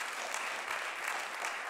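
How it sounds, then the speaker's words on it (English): Church congregation applauding a ten-year church merger anniversary, a steady dense wash of clapping throughout, fairly quiet and unbroken, with no voice over it. "Round of applause."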